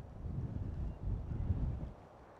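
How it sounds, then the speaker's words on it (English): Wind blowing outdoors at an RV campsite, a low, rumbling gusty buffeting that rises and falls, steady and fairly quiet with no voices. "it's a little bit windy out today"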